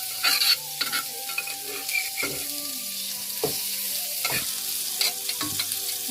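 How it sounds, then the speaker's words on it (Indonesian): Sambal chili paste frying and being stirred in a home kitchen pan, a steady close sizzle broken by repeated scraping strokes of the spatula, with no talk. "Kita goreng dulu ya"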